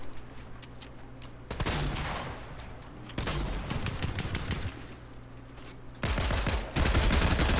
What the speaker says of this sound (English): Using that heavy shotgun to break the builds